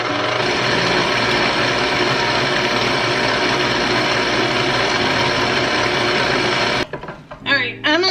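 An electric mixer whips heavy cream and powdered sugar in a steady, whirring mechanical drone with a rhythmic clatter, close and loud, cutting off near the end as a voice comes in.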